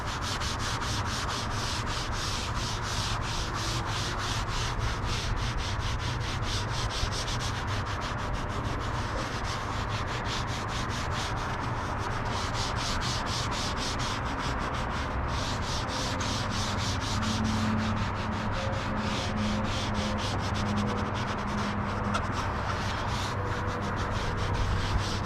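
Adams ceramic coating is rubbed by hand onto engine bay plastic, making a close, continuous swishing rub with quick repeated strokes and no voices.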